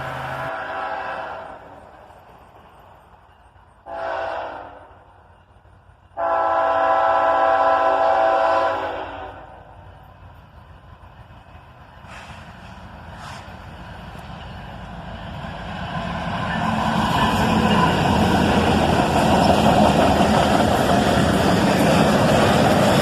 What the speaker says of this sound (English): Four locomotives, led by an ET44AH and an SD43, originally built for the seaboard coastline.